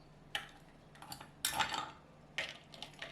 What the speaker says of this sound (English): Lastly, add ice cube to chill the drink.